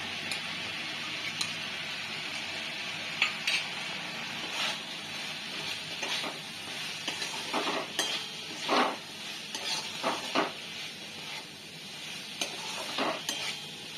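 Cumin and coriander powder fry and get stirred in a pan for a Bengali banana flower dish, a soft steady sizzle broken by repeated scraping clicks of a spoon against the metal, close and fairly quiet, with no talk.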